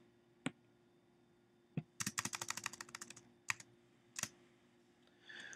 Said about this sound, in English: Now I'll use the space bar to recreate tabbing.